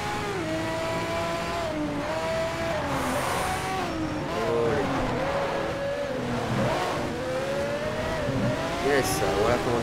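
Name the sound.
race car overtaking another car in video game Need for Speed Shift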